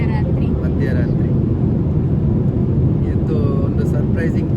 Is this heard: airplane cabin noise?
yes